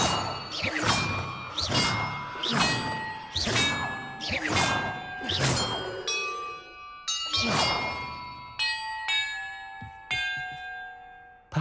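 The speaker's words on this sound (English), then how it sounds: "the order I'm supposed to ring the bells in" Large metal bells are struck one after another in Hogwarts Legacy, each clang ringing out with a long shimmering decay, about ten strikes at a steady pace, loud and close.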